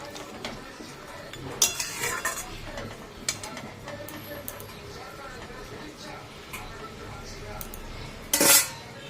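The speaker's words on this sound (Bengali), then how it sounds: "এবার এটাকে ভালো করে নেড়ে নেবো, নিয়ে চাপা দিয়ে রাখবো।" Fried potato pieces, seasoned with salt and turmeric, stirred in a pan, with scattered metal clinks and scrapes of a utensil against the pan and a sharp clatter near the end over a faint kitchen background.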